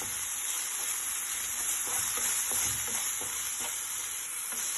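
Chicken with oregano, herbs and chili flakes stirred in a frying pan, a steady close sizzle with soft rhythmic scraping of the spatula throughout.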